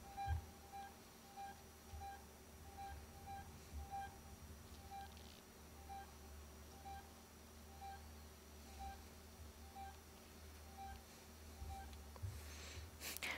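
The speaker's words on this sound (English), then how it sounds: "would take out the little thing that makes the beeping noise" In Alien Isolation, a device emits a quiet, regular electronic beep, one short tone roughly every half second, repeating steadily over a low ambient hum, with a faint rustle near the end.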